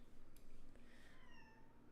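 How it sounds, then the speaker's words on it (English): Pet cat indoors meowing once, a drawn-out falling cry, faint and distant over a steady low background hum. "Oh, that was my cat."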